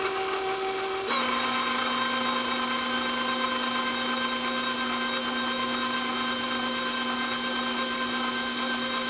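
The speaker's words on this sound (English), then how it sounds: "We're actually going to mix it until it starts to come together" An electric mixer whirs steadily as it mixes flour into batter for a blueberry buckle, a constant motor drone that steps up in speed after a second and then holds without talk.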